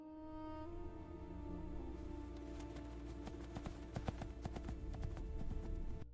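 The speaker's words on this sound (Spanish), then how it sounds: "todavía se puede escuchar el galope de un caballo fantasma" A ghostly horse gallops through a stormy night, its hooves beating a quick, steady clip-clop rhythm that grows denser and slightly louder toward the end, heard alone without voices.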